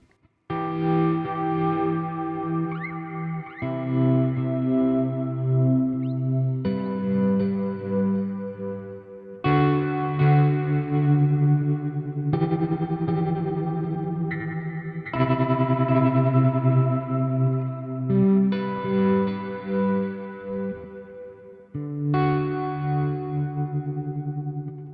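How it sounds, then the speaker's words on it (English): An electric guitar runs through tremolo into reverb on an HX One effects pedal, playing sustained chords that pulse in volume and change every few seconds, with the reverb washing over each change. The guitar is clear and upfront, with no talking. "we'll feed our tremolo into some nice reverb"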